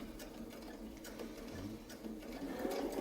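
Sewing machine stitching a circle with a template while quilting a feathered leaf wreath, a steady, fairly quiet mechanical whir running continuously throughout.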